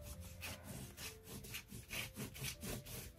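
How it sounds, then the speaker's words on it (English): A flat edge is pressed hard and rubbed back and forth over watercolor paper laid on a stencil, making a rhythmic scraping rasp in even strokes about twice a second, close and steady. "we rub over just like we're burnishing or doing a rubbing with charcoal"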